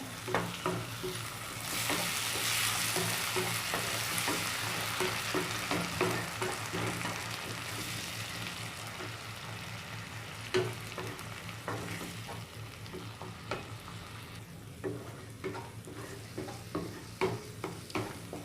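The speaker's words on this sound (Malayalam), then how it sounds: "തക്കാളി ഒഴിച്ചു കൊടുത്തതിന് ശേഷം നന്നായിട്ട് വഴറ്റി കൊടുക്കുക" Tomato paste sizzles and sautés in a pan for a coconut egg curry, a strong fry hiss early on giving way to irregular stirring scrapes and taps, close up with no talking.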